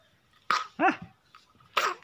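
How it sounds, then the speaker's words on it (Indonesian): A small child coughs in a few short, close bursts, with brief gaps between them and a faint room background. "Kayak mbah wae aja batuknya."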